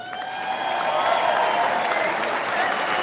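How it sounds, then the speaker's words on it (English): Audience applause for a political speech, a steady dense wash of clapping that holds at full strength for about three seconds, loud and close. "They clap."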